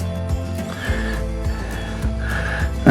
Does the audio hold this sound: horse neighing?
yes